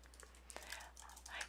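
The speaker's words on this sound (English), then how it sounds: "Notice when I'm typing," Someone types on a computer keyboard while entering a spreadsheet list, producing faint, quick, irregular clicks over a low steady hum.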